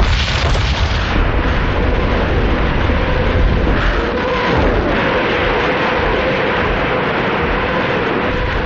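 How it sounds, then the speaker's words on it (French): A continuous, heavy roar of distant artillery and rocket launchers at Stalingrad, dense rumbling booms merging into one loud, unbroken barrage with no gaps. "3000 canons et orgues de Staline écrasent les lignes ennemies"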